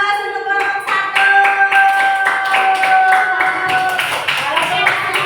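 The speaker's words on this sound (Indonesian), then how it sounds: "berikan aplaus untuk kelompok 1" A classroom group claps for a presenting team, producing a burst of dense, steady applause from many hands, loud and close, with children's voices and a ringing tone mixed in.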